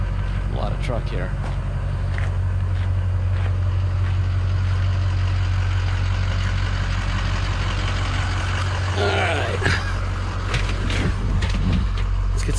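A 2006 Ford F450 diesel 4x4 truck engine idles with a steady low rumble throughout, running loud and close while voices talk over it.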